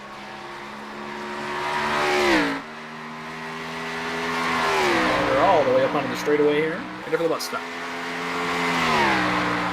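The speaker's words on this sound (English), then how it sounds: "Now he's on the loud pedal up through the S's." Race car accelerating hard up through the esses at Watkins Glen during qualifying, engine notes rising and falling as it shifts and passes, with a commentator talking over the sound throughout.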